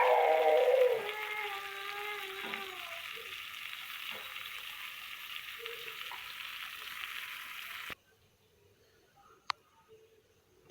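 Eggplant slices fry in a home pan with a steady, close sizzle for about eight seconds, then cut off abruptly to near silence with a faint click.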